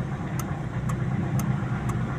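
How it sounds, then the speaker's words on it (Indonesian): A Toyota Corolla twincam engine idles at roughly 900 RPM, a steady, close low rumble with faint ticks recurring about twice a second. "Nah, ini idle nih. Stasioner di RPM 900 kurang lebih ya."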